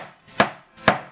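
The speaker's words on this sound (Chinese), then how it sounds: "去皮的南瓜切成薄片" Two firm, evenly spaced chops of a knife cutting peeled pumpkin into thin slices on a cutting board, close and clear with no voices.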